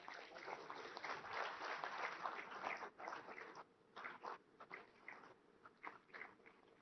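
An audience at a Gujarat ferry service launch event claps to welcome the Prime Minister, a dense, fairly faint applause that thins into scattered bursts toward the end.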